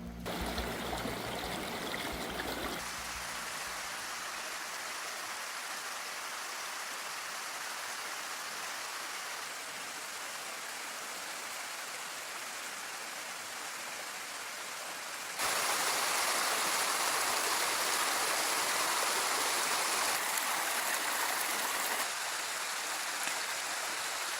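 Running stream water flowing through a rock channel in the wild, a continuous close hiss and babble of water that grows louder and brighter in the latter part.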